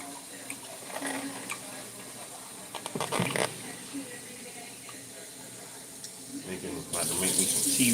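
Water running from a kitchen tap while lemon cucumber water is being made, a faint steady hiss and splash that continues throughout and grows louder near the end.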